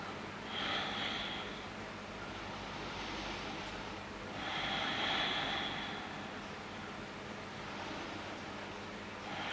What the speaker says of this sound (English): Slow inhales and exhales here.